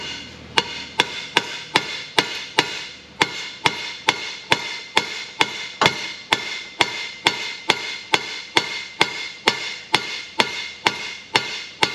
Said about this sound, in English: I'm just gonna hammer this thing out.